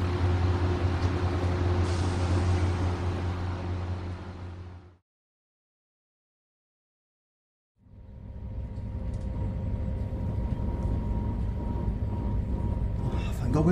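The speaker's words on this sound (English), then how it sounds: "The train's coming." A train approaches as a steady, loud low rumble with broad noise that cuts out abruptly into silence, then resumes at a similar level and carries on to the end.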